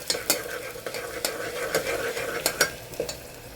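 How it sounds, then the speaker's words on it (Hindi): Ginger garlic paste sizzling in a hot pan while a spoon scrapes and stirs in quick, irregular strokes, close up and without talking. "अदरक लहसुन का पेस्ट डाल के हम थोड़ी देर पका लेंगे"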